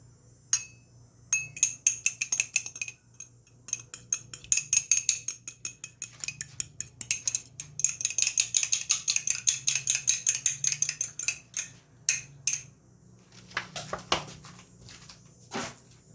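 Egg yolks are whisked with a little vinegar in a bowl. Quick, bright clinks of a spoon or whisk against the bowl come in bursts of rapid strokes with short pauses, close up and with no speech.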